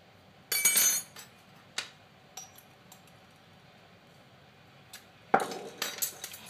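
Yeast being stirred in a bowl with utensils, heard as scattered close clinks and taps of metal against the dish, a brief scrape early and a cluster of sharper knocks near the end, quiet between.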